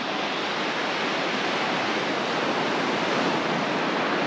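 Sea surf on a beach in Sicily, a steady, full wash of breaking waves that roars evenly throughout without pause, with no voices.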